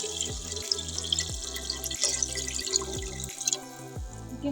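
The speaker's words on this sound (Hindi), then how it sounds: "अब मैं इसमें 2 ग्लास पानी ऐड कर दूँगी।" Two glasses of water are poured into a pot for carrot kheer, making a close run of splashing, gurgling glugs and drips that come in several separate pours.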